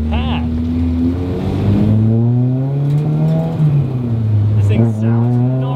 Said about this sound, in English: Pat's taking us in his Integra Type R with the K20